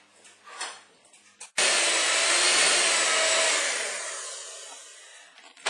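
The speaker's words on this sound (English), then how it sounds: "I'm going to continue beating this for about 15 minutes until the mixture is very light and spongy" Gluten-free bread batter being beaten in a bowl: a steady whirring drone starts abruptly after a quiet moment, holds strong, then eases slightly, with no talking.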